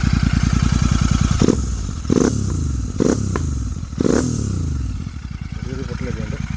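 A Royal Enfield Interceptor 650 fitted with a new aftermarket exhaust idles with a loud, close, pulsing thump and is blipped several times in quick succession into short, sharp revs before dropping back to a steady idle.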